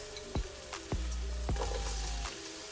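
Peppers hit a hot pan with sharp sizzling hisses, followed by a steady frying crackle and a few thuds of pieces dropping in, close and fairly quiet.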